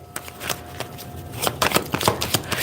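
Tarot cards being shuffled up close, a quick series of crisp flicks and riffles that grows busier and louder toward the end.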